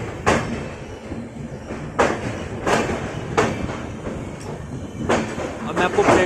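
The Somnath Express rolls into an Indian railway station platform, its wheels giving rhythmic heavy clatters and clunks over rail joints at close range, with someone talking faintly over the steady rumble.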